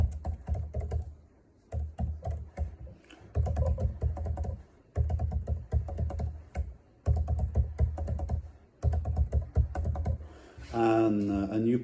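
Computer keyboard typing login details in bursts of rapid key taps with short pauses between entries, close and fairly loud, ending with a brief tonal electronic sound.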